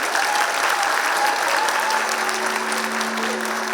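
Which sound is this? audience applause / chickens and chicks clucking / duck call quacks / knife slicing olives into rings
audience applause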